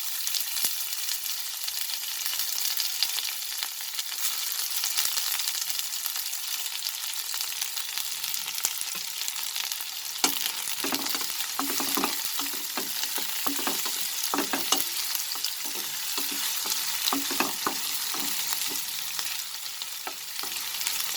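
Garlic cloves, onion and dried red chilies fry steadily in hot oil, a dense continuous sizzle with scattered stirring scrapes and crackles growing busier toward the end, close and alone without talk.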